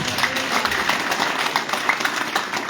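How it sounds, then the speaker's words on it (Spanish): A church congregation claps during a Spanish-language worship service, a dense, steady patter of many hands that carries on for a few seconds at moderate loudness, with faint voices mixed in. "Aplaudan a Dios."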